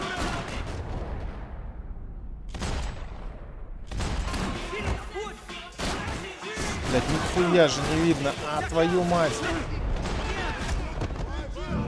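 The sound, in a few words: gunfire in the video game Max Payne 3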